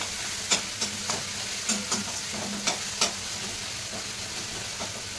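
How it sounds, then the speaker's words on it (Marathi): Chopped tomato frying in oil in a pan for a cabbage sabji, with a steady sizzle and a run of sharp spoon-scraping stirs in the first three seconds, quieter after, and no talking. "आपला टोमॅटो इथे छान तेलामध्ये शिजलेला आहे"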